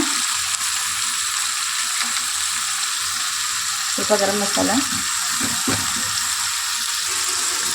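Tomato, salt, chili powder, garam masala and turmeric frying in a pan for a Muslim-style baghara brinjal curry with dal, a constant hiss with scraping stirs in the middle and a voice speaking briefly.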